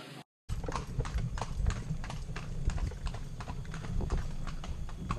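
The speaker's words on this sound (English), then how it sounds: "We're gonna go on a horse cart ride." Horse pulling a cart along a road in Indonesia, hooves clip-clopping in a steady close rhythm over rolling wheel and road rumble, continuing after a short silent gap at the start.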